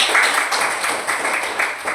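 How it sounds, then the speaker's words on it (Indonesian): A school class claps together in brief, rhythmic bursts of applause that fill the room for a couple of seconds. "Kasih tepuk tangan dulu."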